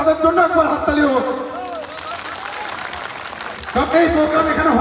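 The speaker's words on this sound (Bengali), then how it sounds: "সকলের আজকে আমাদের এই প্রোগ্রামটা হচ্ছে, তার জন্য তাদের জন্য একবার হাততালি হোক" A crowd at a large public rally in Kushmundi, South Dinajpur, breaks into clapping after an amplified speaker's call. The applause runs for about two seconds and then fades as the voice over the loudspeaker resumes.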